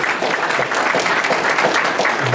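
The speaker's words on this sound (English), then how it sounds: "I don't know if you can hear the applause, Vernon, that you just received from that response" Steady, dense applause from an audience at a Chamber of Commerce Black History luncheon, many hands clapping continuously at a fairly loud level with no pauses.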